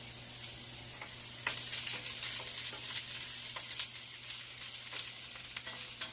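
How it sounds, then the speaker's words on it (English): Onions sizzle and fry steadily in a tablespoon of hot oil in a pan, a continuous close crackle with occasional sharper pops, no voices. "And I've got some onions that I'm going to add in here."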